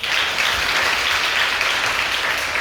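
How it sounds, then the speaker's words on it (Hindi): Audience at a formal Hindi memorial discussion and award ceremony applauding, heard as a steady, even wash of many hands clapping at close range with no speech. "अगर हासिल किया है तो तालियां बजा दो।"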